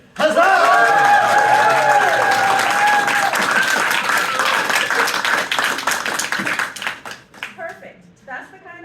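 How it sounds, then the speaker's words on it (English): Wedding guests burst into loud, sustained applause and cheering, with shrill whistles riding over the clapping for several seconds before it thins into scattered claps. "we'd like everyone to cheer, clap, whistle, or make some joyful noise"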